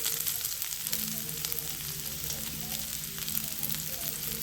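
Green chilies, onions, capsicum, garlic, beans and carrot stir-fry in a spoonful of oil on a high flame for egg fried rice, a dense continuous sizzle with light stirring throughout.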